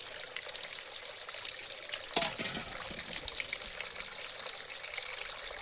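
Water is poured bit by bit during a shampoo bath, a soft continuous splashing and trickling with a slightly louder splash midway.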